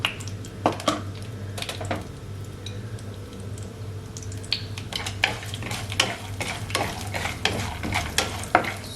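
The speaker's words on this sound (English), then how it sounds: "And then I will add my dal to the peanuts." Dal and peanuts fry in a pan, steady low sizzling under repeated close scrapes and taps of a stirring utensil against the pan, with no voices.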